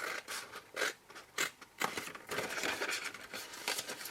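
Scissors snip through material to cut away a lid, a run of short crisp cuts and scrapes close by, quiet and uneven with small crinkling between strokes.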